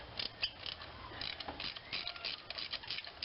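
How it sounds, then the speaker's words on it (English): A 3/8 inch ratchet with a 6-inch extension and 5/8 inch spark plug socket clicks in quick, close pawl ticks while loosening a spark plug on a 2.4L Hyundai Sonata, with no voices. "I have a 5/8 inch spark plug socket, 6-inch extension, 3/8 inch ratchet."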